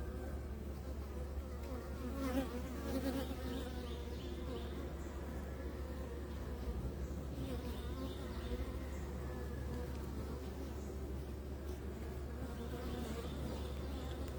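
Steady, dense buzzing of honeybees inside a hive with nurse bees tending brood, a continuous close drone with slight swells and no pauses.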